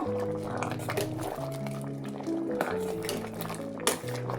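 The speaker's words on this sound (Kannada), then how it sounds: "ಒಂದು ಸ್ವಲ್ಪ ನೀರು ಹಾಕ್ಕೊತಾ ಇದ್ದೀನಿ" Water pours into a pot of homemade vegetable sambar, gurgling and splashing into the simmering liquid while background music plays underneath.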